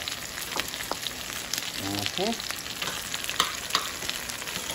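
Eggplant frying in a pan for binagoongan, a soft, steady sizzle with light scraping as it is stirred, close up and fairly quiet.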